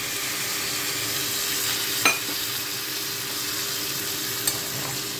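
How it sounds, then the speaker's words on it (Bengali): Spice-rinse water poured into a potato and soybean curry in the pan, giving a steady, close sizzling hiss throughout, with a sharp utensil clink near the middle and a faint tap toward the end. "এখন আমি মশলা ধোয়া যে জলটা ছিল বাটিতে করে সেটা আমি ধুয়েছি আর আমি দিয়ে দিচ্ছি"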